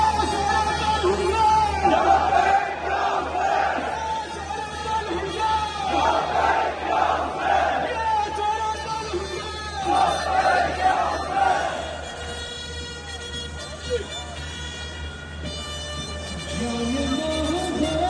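A large crowd at a Rawalpindi imambargah flag-raising chants the slogan "Ya Hussain" in loud rhythmic bursts, the massed voices swelling and fading over a steady background din.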